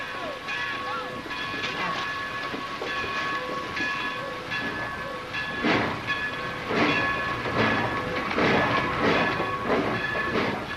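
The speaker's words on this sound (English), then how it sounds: "I wish I was on that train." A train rolls past on railway tracks with a steady rumble and clatter of rail cars, moderately loud and continuous throughout, while a voice is heard over it.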